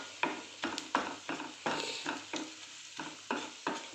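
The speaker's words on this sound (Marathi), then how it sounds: "आता कांदा चांगला परतला गेलेला आहे" Onions sauté in a pan with a constant soft sizzle under a regular series of about ten scraping spatula strokes, each close and clear, and no one speaking.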